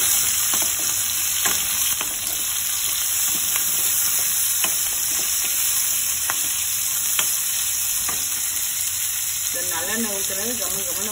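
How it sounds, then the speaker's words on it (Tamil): Chopped onions fry in sesame oil for Chettinad crab gravy, making a loud, even sizzle throughout with regular stirring strokes close by. "இப்போ வந்து வெங்காயம், நம்ம கட் பண்ணி வச்சுருக்க வெங்காயத்தை வந்து நல்லா சேர்த்துக்கலாம்."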